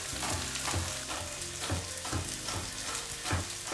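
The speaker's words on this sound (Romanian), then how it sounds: "adaug sosul de roșii. Fac focul mic, gătesc alte 2-3 minute." Rice cooking in tomato sauce in a pan gives a steady broadband sizzle and bubbling over low heat, with a soft scrape of stirring recurring every second or so. No one talks.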